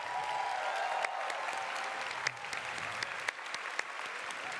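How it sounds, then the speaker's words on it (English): Steady, sustained applause from a crowd at the QuakeCon 2018 keynote, a dense wash of clapping holding at an even level throughout. "a round of applause for the volunteers"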